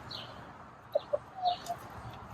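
Hens around a new chicken coop make a few soft, short clucks over quiet background rustle, faint and a little distant.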